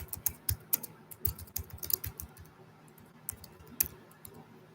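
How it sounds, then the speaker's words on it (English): Fingers type on a computer keyboard close by, in quick, irregular bursts of clicking keys with short pauses, quiet and alone. "I'll type it."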